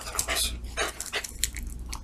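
A dog pants and snuffles close to the microphone in quick, breathy bursts, with a few sharper huffs mixed in, loud against a low background hum.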